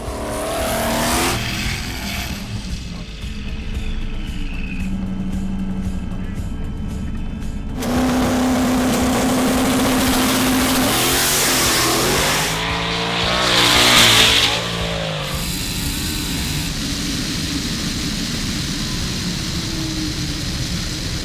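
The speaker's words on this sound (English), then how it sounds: "Unfortunately, Schoolboy broke, so Lieutenant Dan got to make a solo pass." A turbocharged Mustang roars down a drag strip on a solo street-racing pass, continuous and loud, engine howling and shifting, then fading as it passes.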